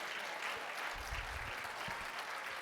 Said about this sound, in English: Give yourself a round of applause for doing that, because that's amazing.